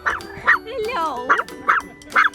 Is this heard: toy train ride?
no